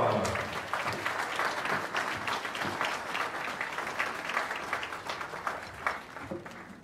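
A crowd of onlookers claps steadily for a performer, a dense, sustained patter of many hands that holds fairly even for several seconds.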